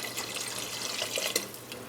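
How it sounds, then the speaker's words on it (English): Water steadily poured into a pot of cooking Moroccan soup, a continuous close splashing wash with a few brief brighter splashes, no talk. "what you want to do is you want to add another 4 cups of water to your soup"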